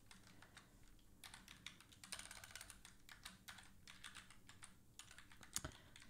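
A computer keyboard being typed on to enter a password, with quick irregular bursts of clicking keys, some short pauses between runs, fairly close but quiet, and no talk.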